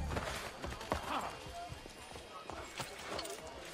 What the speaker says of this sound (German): da ist jetzt richtig schön, in dem Pferdchen herumzureiten